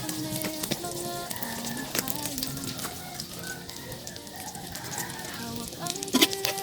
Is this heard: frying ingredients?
yes